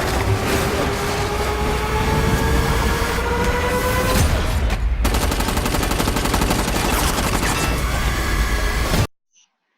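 Sustained machine gun fire rattles loudly in a Terminator Dark Fate trailer, a dense continuous burst with a rising whine underneath, running unbroken for about nine seconds before cutting abruptly to silence.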